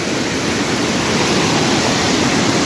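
The waterfall at Murguma Dam roars as a loud, dense, unbroken rush of falling water heard up close, with no voices.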